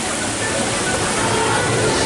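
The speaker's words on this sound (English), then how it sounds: "Popeye River Rapid ride, which is just over there" Rushing water from the Popeye river rapids ride at Islands of Adventure, a steady broadband wash like a waterfall that stays loud and constant throughout without a break.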